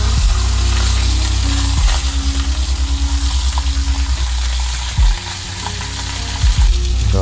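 Lamb chops sear in a hot pan with a loud, continuous sizzle and crackle, joined by a few brief stirring scrapes and bumps, with no speech.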